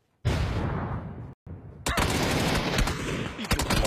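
Loud bursts of automatic gunfire from a PCS6 esports match, a rapid volley, then a brief pause, then denser continuous shooting with sharp separate cracks near the end.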